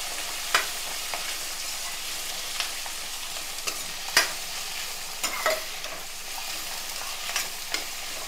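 Green chilies, curry leaves and finely chopped onions frying in a pan for an egg and cashew curry, a steady close sizzle broken by several sharp spoon-scraping clicks of stirring.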